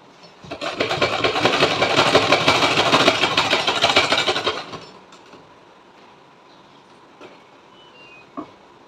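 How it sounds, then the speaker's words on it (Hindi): An electric sewing machine stitches fabric for a small dress in one loud, continuous burst of a few seconds, then stops, leaving faint handling sounds. "तो अब हम इसके ऊपर इस तरह से साइड बाय साइड सिलाई कर देंगे।"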